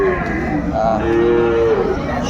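Cattle low at the Aftabganj livestock market in Dinajpur, where Sahiwal bull calves are sold, with a drawn-out close moo rising and falling over a dense background of market crowd noise.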